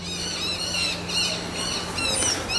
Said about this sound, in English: squawking beach chickens or whatever they are in the background